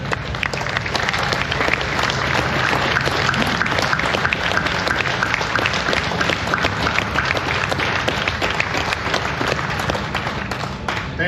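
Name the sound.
audience applause for first responders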